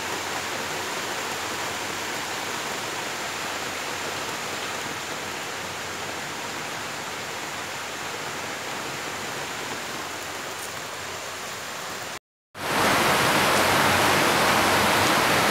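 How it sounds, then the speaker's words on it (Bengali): Heavy monsoon rain pours steadily in a dark, hot evening, a dense, continuous hiss close by that cuts out for a moment near the end and then returns even louder. "প্রচণ্ড জোরে বৃষ্টি এলো"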